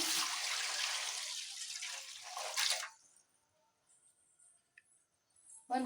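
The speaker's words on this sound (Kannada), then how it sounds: "ಕಡಾಯಿಗೆ ಸ್ವಲ್ಪ ನೀರು ಹಾಕ್ತಾಯಿದ್ದೀನಿ ನಾನು" Water splashes and pours steadily into a wok for about three seconds, then stops, leaving quiet clinks and a faint knock at the end.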